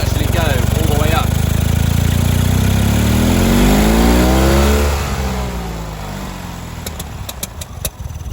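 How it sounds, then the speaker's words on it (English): A car engine with a backfiring fault revs up loudly and steadily, pitch climbing over several seconds before dropping back toward idle. "if you rev it on slowly, it does actually go all the way up"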